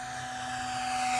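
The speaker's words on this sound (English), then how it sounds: "Do you hear that? It sounds like a race plane." An E-flite RV-7 RC model plane at full throttle gives a steady high-pitched electric whine that slowly swells louder as it passes, with no talk over it.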